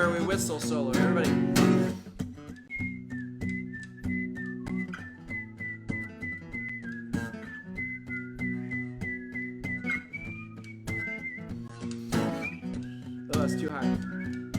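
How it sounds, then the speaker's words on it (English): Whistled solo during a live performance of a song, a sustained melodic line over guitar accompaniment, close and clear, with singing before and after. "This is the part where we whistle solo."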